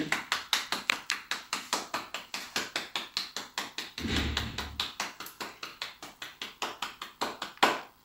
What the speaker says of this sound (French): faire un tonnerre d'applaudissements pour saluer et remercier Michael